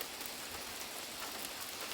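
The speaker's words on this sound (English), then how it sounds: "or just listen to the rain" Steady rain pours down outside a porch, a continuous dense hiss of drops hitting surfaces at an even level, with no voices.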